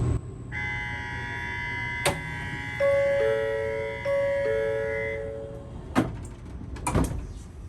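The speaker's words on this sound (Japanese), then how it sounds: "無事にドアが閉まりました" Shinkansen doors on a JR Central train close at the station platform: sustained electronic warning tones play over station ambience, followed by several sharp thuds of the doors shutting.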